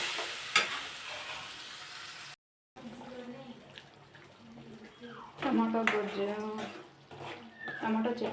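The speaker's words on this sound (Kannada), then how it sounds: "ಈಗ ರುಬ್ಬಿರೋದನ್ನೆಲ್ಲ ಹಾಕೋಣ." Ground tomato chutney paste tipped into a hot pan with mustard seeds and curry leaves, sizzling and spattering in short bursts while a spoon stirs, with someone talking over it.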